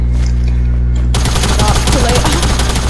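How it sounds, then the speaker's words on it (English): Rapid automatic gunfire from a Fortnite zone wars match bursts in suddenly after a quiet start, then continues as dense, loud crackling shots for the rest of the moment. "Who's already shooting?"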